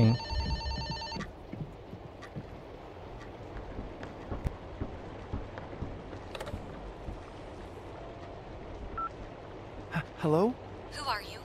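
A telephone rings in the horror game Fobia St. Dinfna Hotel, with brief ring bursts at the start and near the end over a murky ambient background and scattered footstep-like knocks, and a person's voice is heard talking as well.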